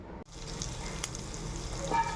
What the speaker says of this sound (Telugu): నెక్స్ట్ మనం బటర్ వేసి అవి వేసుకుందాం తాలింపు